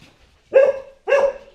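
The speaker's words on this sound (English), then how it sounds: "She's barking at me." A pet dog barks twice at someone arriving home, two short, loud, close barks about half a second apart with a quiet gap between them.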